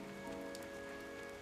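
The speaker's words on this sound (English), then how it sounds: "It's like, it is raining. Like, it is pouring." Rain pours steadily, a faint, even hiss of drops hitting a surface, with a quiet steady hum beneath it and no talking.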